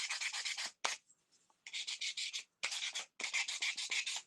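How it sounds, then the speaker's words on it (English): Hand sanding the edge of a small craft cuff piece, in close, rhythmic bursts of scratchy rubbing separated by short pauses. "I like to sand it."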